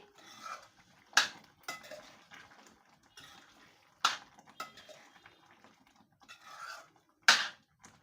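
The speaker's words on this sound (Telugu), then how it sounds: "ఒక 2 సెకండ్స్ బాగా కలిపేసేసి" Metal spoon scraping and clinking in a pan while prawn masala curry with fresh coriander is stirred, three sharp clanks standing out among softer irregular scrapes and shuffles, close and fairly quiet.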